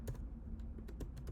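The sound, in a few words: typing npm install command on computer keyboard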